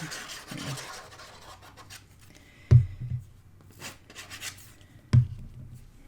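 Glue being spread on a paper flap for a handmade snowy-day mini album: quiet, sparse rubbing strokes with two sharp, close knocks, as if something is set down on the table. No one speaks.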